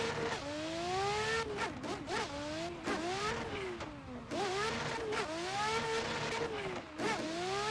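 Simulated car drifting on a new touge mountain road in Assetto Corsa, one of a street car pack: a loud, continuous engine note that revs up and falls in repeated sweeps, with tyre squeal and skidding, and no voices.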